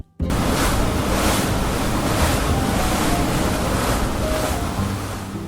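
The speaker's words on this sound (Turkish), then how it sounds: "Bu bir sürat teknesi ve sesi böyledir." A constant roar of a fast boat on open water, with rushing spray and wind noise, loud and steady throughout with no voices.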